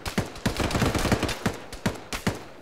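Rapid bursts of gunfire from the military shooter ArmA, dense overlapping shots and automatic volleys cracking throughout, loud and close with a few sharper isolated reports standing out.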